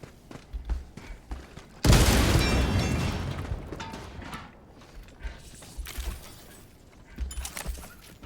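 A grenade bursts inside a bunker hole in Helldivers 2, one loud, sudden blast followed by a long, slowly fading roar of debris and rumble, set among quieter game thuds and ambient clatter.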